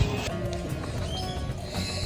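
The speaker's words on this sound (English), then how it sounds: "Look at all the horse-drawn carriages lined up." Horse-drawn carriages lined up on a street in Granada, Nicaragua, with hooves clip-clopping steadily at close range over a continuous busy background, and a possible whinny.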